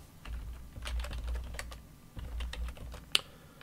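Someone types a Cisco Catalyst switch command on a computer keyboard, producing soft, close key clicks in two quick bursts, with one sharper keystroke near the end.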